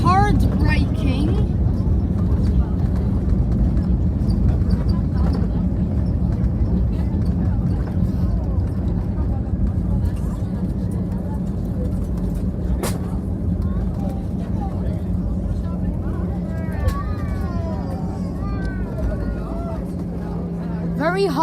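A TAP Airbus A321 braking hard on the runway after landing at Lisbon, heard from the cabin as a loud, steady roar of engines and wheels that holds throughout while people talk over it.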